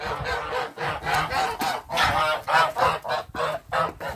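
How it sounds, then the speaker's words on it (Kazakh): Geese let out of their pen honk loudly and repeatedly up close, forming a busy, overlapping chorus of nasal calls with short gaps between them. "Қаздарын босатып жіберейін"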